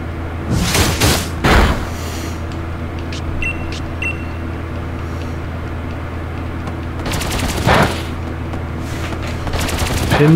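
Pin Missile attack from a Pokemon Shield battle, rapid volleys of sharp, gunfire-like stabbing hits in two loud bursts, one early and one later, with quieter game tones between.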